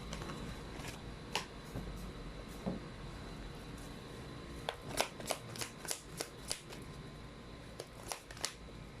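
Tarot cards being shuffled by hand, a run of crisp riffling bursts in quick succession that grow sharper and more regular in the second half, close up and without talk.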